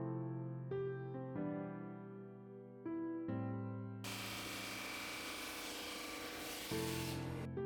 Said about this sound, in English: I then got rid of the saw marks with my drum sander